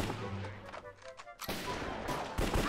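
Gunfire in the Minecraft video game, a burst of sharp bangs that fall to quieter shots and then return as a dense rattling volley, all loud and close.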